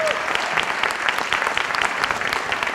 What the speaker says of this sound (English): why don't we give them all a round of applause for building one strong Tucson.